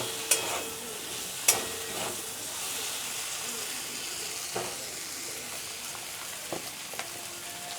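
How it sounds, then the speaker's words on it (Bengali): Potato and soybean stir-fry with spices in a pan, a soft steady sizzle broken by a few sharp clanks of a utensil against the pan, quiet and close, without talk. "এবার আলু সয়াবিনটারে আমি ভালো করে মশলার সাথে একটু কষিয়ে নেব।"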